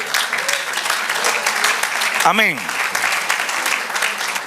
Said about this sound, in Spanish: Y denle aplauso al Señor.